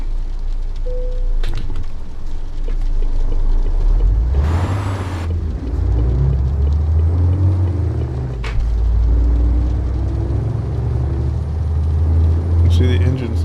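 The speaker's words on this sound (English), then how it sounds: "See, the engines sound totally different, but it's the same performance." Heavy truck engines in the driving game Euro Truck Simulator 2, a loud, deep diesel rumble that rises and falls with gear changes, broken by a hissing air-brake burst, while a person talks over it.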